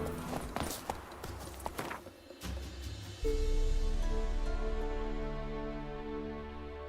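Roach, the horse in The Witcher 3, with hooves clip-clopping in quick rhythmic steps at first, then a sustained low rumbling tone takes over and gradually fades.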